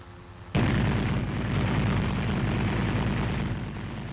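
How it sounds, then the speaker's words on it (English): A caliber .50 machine gun fires from the cupola of an M551 Sheridan armored reconnaissance vehicle, a sudden loud onset of continuous rapid fire that roars steadily for several seconds, close and dense. "then he brings his machine gun to bear by switching the cupola power on and using the traversing switches mounted on the machine gun handles. He opens fire"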